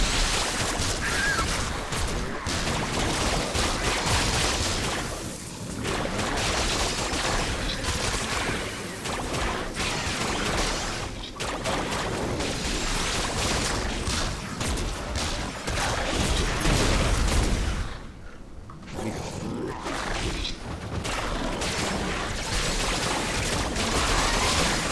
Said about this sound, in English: you saw the little orbs go out